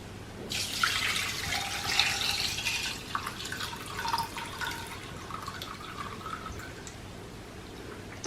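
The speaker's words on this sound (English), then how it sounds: "I'm going to use my strainer to just strain it." A cooled, home-cooked liquid is poured through a kitchen strainer: a close, steady splashing stream for about two seconds that thins into a lighter trickle and scattered drips, with no talk.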